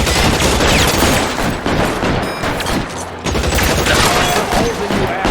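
Dense gunfire from a shootout in the video game L.A. Noire, set in a stolen-car-ring case, rattles nonstop as loud overlapping bursts and shots with brief dips, and shouted voices are heard in the mix.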